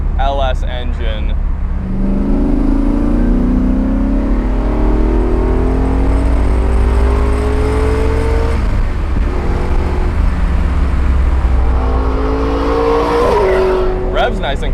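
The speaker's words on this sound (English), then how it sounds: "Revs nice and quickly, and it definitely does not die off at the top end." A Nissan 240SX with a 5.3-liter aluminum-block LS V8 engine revs up loudly and close, its pitch climbing quickly through long sweeps to the top end before dropping back, with a final rise near the end.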